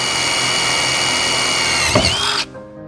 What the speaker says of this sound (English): Now it's time to drill the holes.